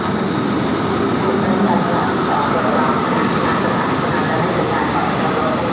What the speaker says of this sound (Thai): วันนี้เป็นอัลซอมนะฮะ อัลซอมสีหนึ่งสี่เก้า